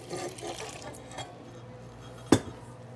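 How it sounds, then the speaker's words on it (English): Water pours steadily into a stand mixer bowl of flour for casatiello bread dough, with a soft splashing trickle, followed by a single sharp clink near the end. "Going to add in the rest of our water."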